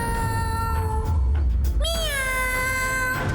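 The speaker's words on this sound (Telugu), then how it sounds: "క్యాట్ శబ్దం ఎక్కడి నుంచి వస్తోంది?" A cat meows twice close by, with a short call first and then a longer rising, wavering meow, set against a low rumbling background.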